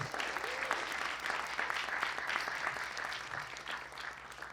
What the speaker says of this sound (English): Let's give a round of applause for Jessica.